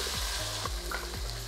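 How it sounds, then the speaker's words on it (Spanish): Seared meatballs sizzle and fry steadily in a hot pan as blended sauce is poured in, with a few soft stirring scrapes and low thumps recurring over the continuous crackle. "cuando ya las albóndigas estén completamente bien selladas, vamos a agregar directo nuestra salsa que habíamos licuado"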